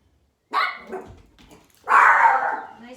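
A dog barks indoors during a gentle stretch yoga class, two separate barks, the second louder and longer, close by, with no talking over them.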